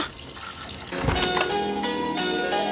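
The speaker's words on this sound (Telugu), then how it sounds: "నువ్వు ఫోన్ చేసినప్పటి నుంచి ఆ ట్యాప్ కారుతూనే ఉంది" Water from a tap runs steadily into a sink, a continuous splashing stream with a faint metallic ring, no voices.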